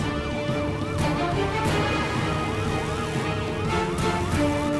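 Police car sirens in a GTA roleplay video game chase, several overlapping wailing sirens cycling rapidly and continuously over engine noise, loud and close.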